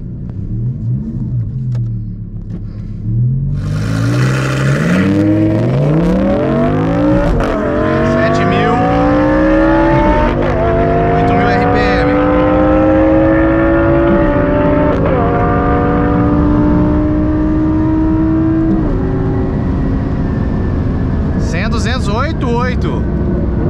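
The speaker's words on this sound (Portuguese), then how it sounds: "Lamborghini Gallardo, super ligeira, meus amigos." A Lamborghini Gallardo Superleggera on a new race track revs hard and pulls through several gears, its engine note climbing in loud, close, rising sweeps with brief shifts between them.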